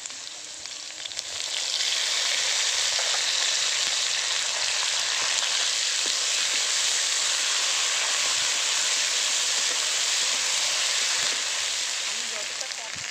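Ginger-cumin paste and green chili paste fry with potatoes and cumin seeds in hot oil, giving a steady, loud, close sizzle that swells after the first seconds and holds throughout.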